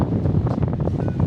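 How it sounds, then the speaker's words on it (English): Strong gusts buffet the microphone on a high-rise balcony in Brickell, a dense, roaring rush of wind with no voices. "It is windy as hell out today."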